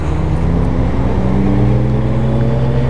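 A motorcycle engine runs steadily on the road during a group ride of about 30 bikes, a loud continuous low drone with strong harmonics and no talk.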